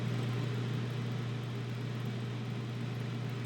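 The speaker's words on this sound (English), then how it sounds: "Have the washer going, so it's moving the whole RV." A washing machine runs inside an RV, giving off a steady, continuous low hum and mechanical drone with broadband rumble, unchanging and fairly close throughout, with no talking.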